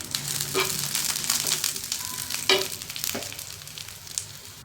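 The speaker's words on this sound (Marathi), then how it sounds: "तवा गरम आहे तेवढ्यामध्ये ते भाजून जातं" Spices dry-roast on a hot griddle after the gas is turned off, giving a soft continuous crackle and sizzle with occasional scraping stirs, close and fairly quiet.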